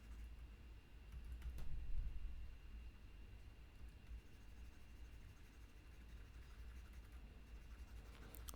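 Soft scratchy strokes of pencil shading on paper, close and quiet, steady rubbing with a slightly stronger burst early on.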